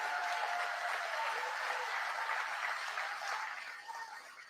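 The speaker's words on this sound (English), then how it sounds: "Let's give Secretary Loeffler a big round of applause" Audience applause for Secretary Loeffler at a political gathering, a steady wash of many hands clapping that holds evenly and then thins out toward the end.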